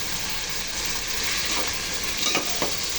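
Tomatoes sauté in a pan with salt and turmeric, giving a dense, steady sizzle. A couple of brief stirring scrapes rise near the end.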